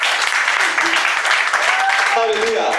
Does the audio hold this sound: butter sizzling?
no